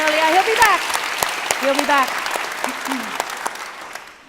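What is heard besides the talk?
audience applause for Auslan interpreter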